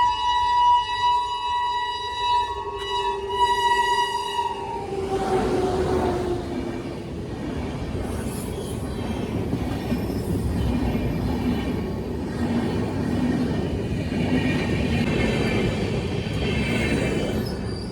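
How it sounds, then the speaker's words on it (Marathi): A train horn blares in long sustained tones, then a loud rumbling train passes close by a level crossing gate with steady rattling and clatter that continues to the end. "रेल्वे आली पाहत दाखव तुम्हाला"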